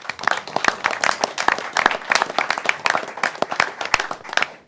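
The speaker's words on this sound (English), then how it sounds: "So a round of applause for the family, please." Council meeting audience applauds a firefighter's family: a lively, close burst of many overlapping hand claps, sustained and fairly loud.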